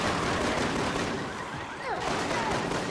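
Rapid pistol fire from dual handguns in Resident Evil 6 crackles continuously against multiple enemies, loud and dense, with game noises sweeping through the barrage and no talk over it.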